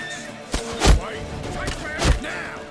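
A horse in The Witcher 3 Wild Hunt whinnies loudly twice, with a short snort and heavy thuds around the neighs; a voice talks briefly in between.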